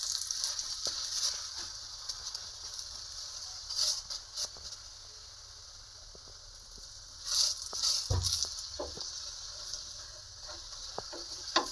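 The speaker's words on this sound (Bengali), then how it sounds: "সাদা তেল দিয়ে দিয়ে ভেজে নেব।" A methi (fenugreek leaf) paratha fries in white oil with a faint, soft sizzle and crackle that swells in a few short bursts, with occasional light taps close by.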